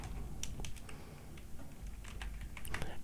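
Computer keyboard keys tapped in short irregular bursts while building a business website, a light close-up clatter that comes and goes over a faint steady background.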